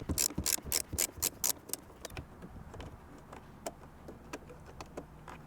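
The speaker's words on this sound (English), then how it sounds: "next, like I said, is to remove this Torx bit, and this one is a T30 size." A hand ratchet backs out a T30 Torx bolt from a Honda S2000 steering hub, with a quick burst of sharp, loud clicking strokes up front, then sparser, fainter ticks as the bolt loosens.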